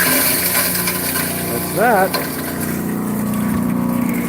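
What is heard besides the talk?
hammer mill glass crusher running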